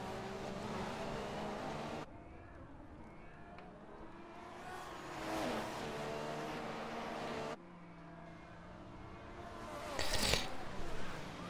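Racing cars in a Monaco Grand Prix video game, heard through the tunnel chicane: continuous engine whine and roar that shifts pitch as cars pass close, with short cuts between camera views and a burst near the end.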